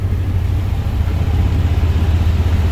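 A 1977 Ford F100 truck drives on a rainy day, heard from inside as a steady, loud low engine rumble with rolling road noise and no talk.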